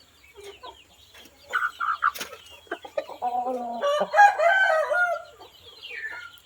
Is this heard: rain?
no